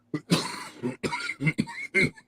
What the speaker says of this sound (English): Is that the horse got you coughing like that?